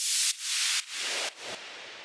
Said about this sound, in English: And this is like a faller, white noise,